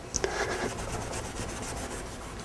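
Corroded brass instrument tuning slides scrubbed by hand with steel wool, a soft close rasping rub that continues steadily for a couple of seconds, alone and fairly quiet.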